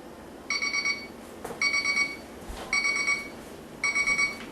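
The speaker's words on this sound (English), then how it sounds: "Alright, there's the timer for my next step" A kitchen timer alarm goes off while brewing fruitcake barleywine, sounding four evenly spaced bursts of rapid electronic beeping, close and clear with no talk.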